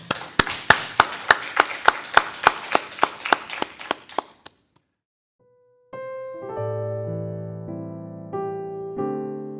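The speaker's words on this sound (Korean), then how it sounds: "우리 하나님께 영광의 박수 올려드리겠습니다" A church congregation claps in unison, sharp, evenly spaced claps for about four seconds before stopping abruptly; after a short silence, sustained keyboard or organ chords begin.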